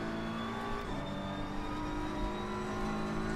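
Race car engines at Suzuka in a racing game, a steady droning whine of close engines holding high revs with a small pitch shift partway through, with no voices.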